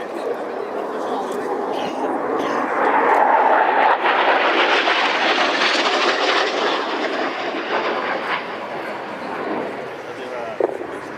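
An AV-8B Harrier II jet at the Royal International Air Tattoo swells into a loud roar that peaks midway and then slowly recedes, with a voice talking over it.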